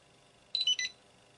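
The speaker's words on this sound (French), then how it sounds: "le bip nous confirmant qu'on est bien appareillé" A short electronic pairing-confirmation beep from a wireless barcode scanner, a quick series of high-pitched tones lasting under half a second, in an otherwise quiet room.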